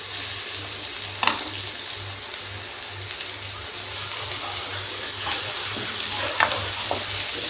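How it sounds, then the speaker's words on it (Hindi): Onions frying in a pan for a soya badi recipe, a steady close sizzle with occasional stirring scrapes and clicks over a low continuous hum. "प्याज को भून लेते हैं।"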